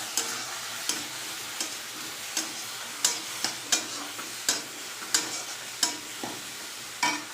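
Tomatoes are stirred into browned onions frying in a pan for an oil-free fish curry, each stroke making a rhythmic scrape or tap about every half second over a steady sizzle; no voices.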